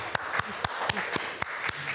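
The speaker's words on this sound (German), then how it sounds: "vielen Dank, Applaus." Small audience applause in a talk setting, a handful of sparse, separate claps in an irregular rhythm, fairly close and moderately loud over a quiet room.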